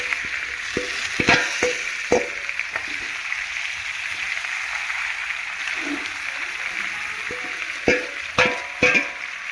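Local chicken meat fries in a small wok with a steady, faint background hiss, broken by scattered sharp clatters and scrapes of stirring that come in bursts near the start and end.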